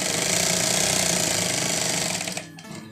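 A sewing machine stitches a suit jacket pocket with a fast, steady mechanical clatter, close and loud, then slows and stops near the end.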